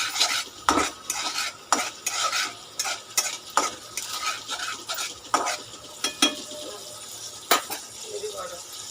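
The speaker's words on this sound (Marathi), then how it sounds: "पॅन घेतल्यावर तेल टाकलं, त्यात आपण आलं लसूण टाकलंय" Ginger and garlic frying in oil in a pan for a restaurant-style veg Manchurian gravy, with a steady sizzle broken by repeated clinks and scrapes of a spoon stirring against the pan, close up.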